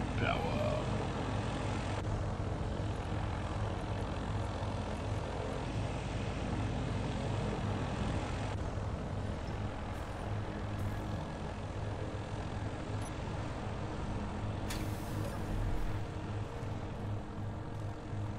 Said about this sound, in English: Go turn off the plane and